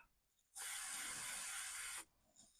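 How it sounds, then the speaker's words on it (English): A steady hiss of DeoXit contact cleaner sprayed onto a Commodore 64 socket, one continuous burst of about a second and a half, close and loud, with quiet room noise before and after. "I will spray the socket with deoxit."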